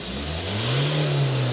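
A Ford Ranger engine revs up as the throttle is tipped open, a mid-pitched motor rising in pitch and swelling in loudness over a second or so, heard close by with no talk.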